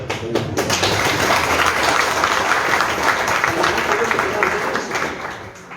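A crowd at a political meeting with elected authorities in La Paz breaks into loud, dense applause that holds steady for several seconds before easing off slightly at the end.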